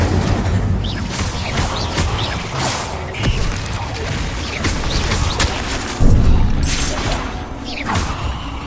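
Incendio fire spell cast during combat in Hogwarts Legacy, a steady layered mix of game sounds with mechanical clatter, whooshes and dull booms, and a louder burst near the end.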